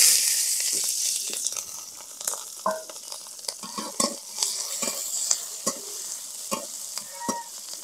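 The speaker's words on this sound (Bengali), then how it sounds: "এবার তেলে রসুন আর কাঁচা ঝাল ভেজে নেবো" Garlic and green chilies fry in hissing, sizzling oil, with repeated sharp scrapes and taps of a spoon stirring in the pan.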